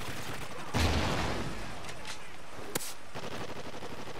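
Gunfire in Call of Duty: Ghosts during a Domination match, with a loud burst of shots early on and a sharp single crack later, mixed into steady game noise.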